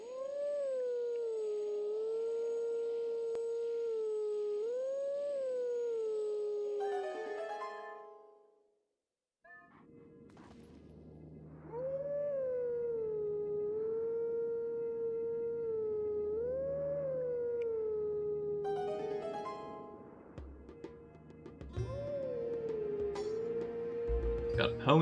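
A wolf howls at a stone in the Twilight Princess video game, long wavering melodic howls repeated three times, loud and close, with game sounds and a short silence between them.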